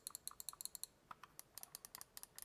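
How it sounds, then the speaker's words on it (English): Shoulder buttons on a GameSir X2 mobile gaming controller pressed repeatedly, a quick series of sharp light plastic clicks in uneven bursts, close and quiet with nothing else audible. "there's a bit more travel there on the shoulder buttons. You can hear it clicking there."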